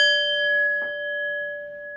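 A bright notification bell dings once at the start, a clear tonal chime that rings on and sustains steadily for about two seconds, alone with a faint soft knock partway through.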